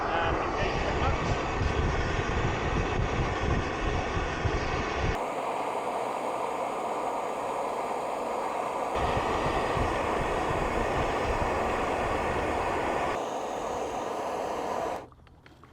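A homemade Stirling engine bike runs with the clutch engaged behind a DIY windbreak, a loud, steady mechanical drone with shifting tone that holds for most of the stretch before suddenly dropping away at the end.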